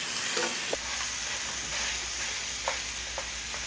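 Close, steady sizzle of about a pound of 80-20 ground beef frying in a pan without added oil, continuous hiss with a few faint taps and clinks.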